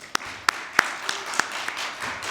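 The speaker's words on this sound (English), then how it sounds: "Can I please get a massive warm round of applause for Jess?" A small audience gives a round of applause for a presenter at an esports and AI team-performance talk, sparse individual claps standing out over a soft diffuse patter, fairly quiet and brief.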